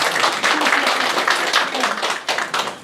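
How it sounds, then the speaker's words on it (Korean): Villagers at a town meeting in a rural village hall break into applause, a dense, steady wash of clapping hands lasting a few seconds with a few voices mixed in. "박수 한번 쳐주시죠."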